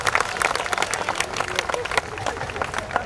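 Audience applause at an outdoor poetry recital during a Diwali fair in Udaipur, a scattered, uneven clapping with some crowd murmur and a voice audible underneath.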